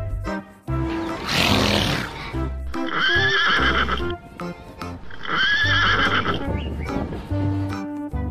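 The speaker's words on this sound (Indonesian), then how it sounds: "ada kuda warna putih teman-teman" A white horse whinnies loudly and close by in two long, shrill neighs. Hoof clops and people talking in the background fill the gaps between the calls.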